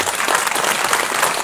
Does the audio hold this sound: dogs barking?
no